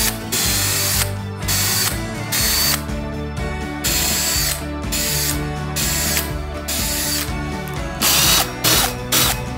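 A power driver sinks screws into a shower panel inside a camper van, whirring loudly and close in repeated bursts with short gaps between them.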